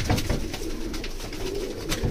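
Pigeons of a breed up for sale, cooing steadily and close, with a dense layered murmur of several birds and some wing flutter, no voices.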